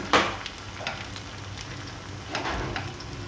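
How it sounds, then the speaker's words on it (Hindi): Food shallow-fries in mustard oil in a pan, a steady close crackling sizzle with a couple of louder spitting bursts, no voices over it. "ये वाले जो मैं फ्राई कर रही हूँ ये सरसों के तेल में, जिनको मैं शैलो फ्राई करूँगी"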